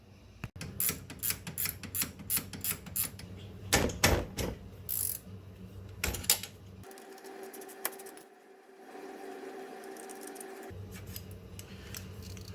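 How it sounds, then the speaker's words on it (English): A ratchet wrench clicks in quick irregular bursts while removing a brake caliper from a RZR 570 ATV, followed by a quieter stretch with a faint steady hum. "I'm using a ratchet wrench because it's nice and easy."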